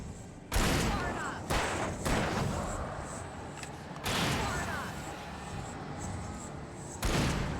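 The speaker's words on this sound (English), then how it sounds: "Ooh, flashbang." Flashbang grenades in the Alan Wake video game go off in a series of loud, sharp bursts, each crack followed by a bright ringing hiss that lingers, repeating several times in close succession.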